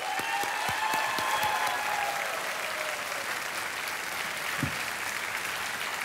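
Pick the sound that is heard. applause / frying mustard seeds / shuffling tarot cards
applause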